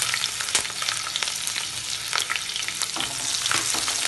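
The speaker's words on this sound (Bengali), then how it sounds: "দিয়ে রসুনটাকে আমি হালকা ভেজে নেব" Chopped garlic and green chillies fry in hot oil, a bright continuous sizzle close by with frequent stirring scrapes and clicks throughout.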